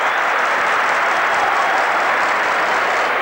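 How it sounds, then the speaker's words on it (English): A football crowd at a cup final roars at a near miss, a loud, dense, continuous wash of cheering and shouting that fills the whole moment without pause. "Close enough to have the crowd roaring."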